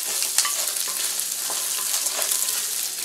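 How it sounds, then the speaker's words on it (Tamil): Small onions and peanuts fry gently in oil over a low flame, giving a steady soft sizzle with occasional light pops and stirring scrapes, close and unaccompanied by talk. "வெங்காயம் வந்து சின்ன வெங்காயம் வந்து நல்லா வேகணும், சிம்மில் வச்சு வேக வைங்க"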